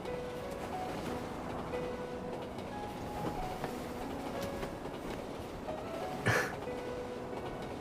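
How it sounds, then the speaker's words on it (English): A video game train gets underway with a low rumbling rail drone and faint rhythmic clacking, plus a brief sharp hiss or clank near the end. "Hold on tight. The train is about to leave."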